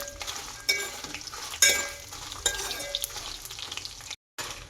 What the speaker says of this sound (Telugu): తర్వాత కాసినంత ధనియాలు వేసుకోవాలి. ఒకసారి తిప్పుకోవాలి.